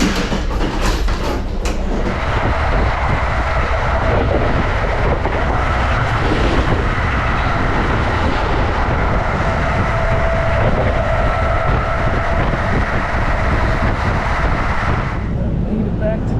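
A train rumbles past continuously at close range with a steady roar and faint rail clatter, while a rider waits aboard with an e-bike and people talk in the background.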